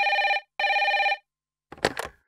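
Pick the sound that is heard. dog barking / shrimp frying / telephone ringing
telephone ringing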